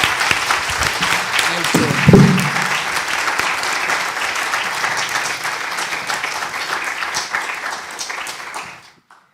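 An audience at an academic talk on rule of law and democracy claps in steady, sustained applause that tapers off and stops, with a short spoken thanks partway through.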